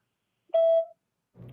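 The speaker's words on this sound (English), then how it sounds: "Leave a message at the tone and I'll get back to you when I can." A voicemail system gives a single short, clean electronic beep tone. Faint background noise starts shortly after.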